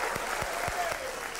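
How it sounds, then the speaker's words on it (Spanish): Brief burst of audience applause at a live comedy show, dense clapping from a room full of people at steady volume, with a few low thumps underneath. "Un aplauso"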